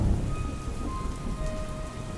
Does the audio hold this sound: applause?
no